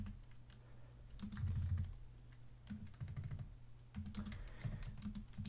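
Quiet typing on a computer keyboard while writing math in a Neovim setup, with irregular bursts of clicking keystrokes and short pauses between them.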